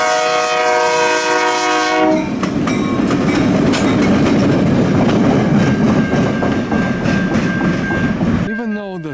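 CN railway diesel locomotives 4910 and 47 leaving Paris: a loud sustained multi-tone horn blast opens, then heavy rumbling engine and wheel noise with clanking, and another short horn sounds at the end.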